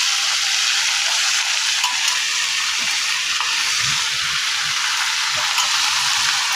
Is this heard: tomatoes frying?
yes